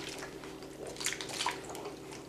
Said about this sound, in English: the water will now fall down while the air goes up